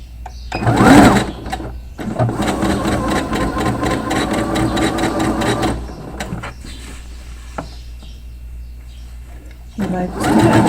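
A sewing machine stitches a wrap blouse in a short burst followed by a longer steady run, close and loud, with someone speaking over it in Portuguese at times.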